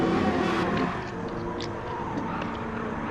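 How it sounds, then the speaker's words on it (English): A race car in a racing video game with a single-cylinder-sounding engine, giving a steady, loud, buzzy drone that eases slightly after the first second and continues without pause. "So Lucy's car scientifically sounds like this."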